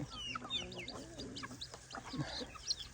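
Several chickens cluck and chatter close by in quick, overlapping bursts, with soft background noise and no speech.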